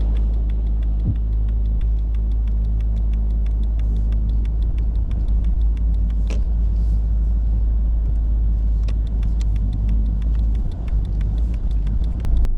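A taxi car in Kyiv driving off, its engine a steady low rumble with road noise throughout, with a few faint clicks and knocks over the top and no talk.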